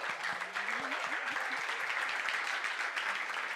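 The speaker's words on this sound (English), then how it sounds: "Give a massive round of applause for Matsi Modise" A standing audience at a Cape Town startup meetup gives a guest a big round of applause, steady dense clapping throughout, fairly distant, with a brief voice or cheer early on.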